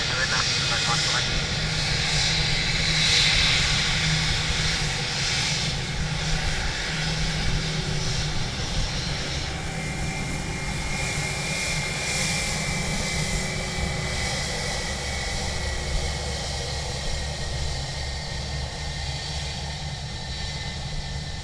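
Qatar airliner landing on runway 28 left at Dublin Airport, a steady broad engine roar held throughout at moderate distance, with a faint radio voice briefly over it.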